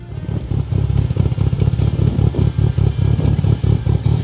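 A Datsun 1600 with a Z18 turbo engine revving, a loud, rough, pulsing engine note with rapid throbbing bursts and clattery mechanical texture throughout, with no talking.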